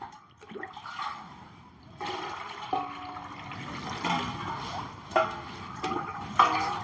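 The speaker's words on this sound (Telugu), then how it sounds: "అదే గిన్నెతో పోసుకున్నాలి." Water is poured from a bowl into a pot to be heated for murukulu dough: a few separate splashing pours, each a short gush into the vessel, fairly close and moderately quiet.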